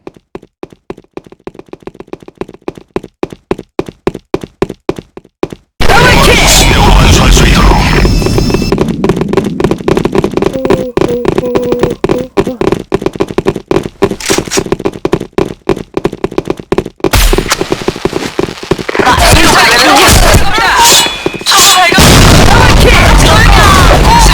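Grenade blasts in the online shooter Sudden Attack, on the supply-depot map against AI bots: loud, heavy booms and bursts that hit repeatedly over continuous game noise, with rapid clicking before them.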